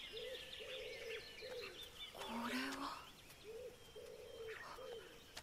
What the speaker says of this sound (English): Couldn't tell if those birds are actually outside my house or not for a minute.